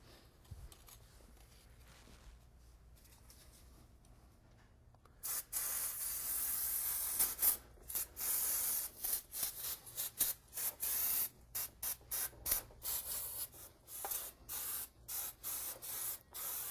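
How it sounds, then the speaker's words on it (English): Bursts of brake cleaner spray hiss in short, repeated blasts onto brakes, close up, after a few quiet seconds with no talking. "we're going to take brake cleaner and spray everything down"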